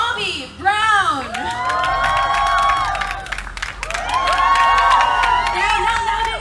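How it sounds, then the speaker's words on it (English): A crowd cheers and applauds loudly for actress Millie Bobby Brown at a pop culture comic convention media session in Manila, with high-pitched shrieks and whoops, many of them children's, rising over steady clapping throughout. "Let's all give a warm round of applause, please, to Millie Bobby Brown."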